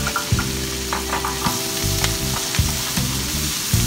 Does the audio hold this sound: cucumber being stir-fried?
yes